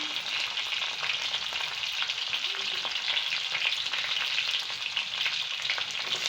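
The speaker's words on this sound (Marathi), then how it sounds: "तेल टाकलेलं आहे त्यामध्ये आता लसूण टाकलेला आहे" Garlic and chili sizzling in hot oil in a pan while amaranth greens are cooked, a steady close frying hiss with light stirring scrapes, no talk.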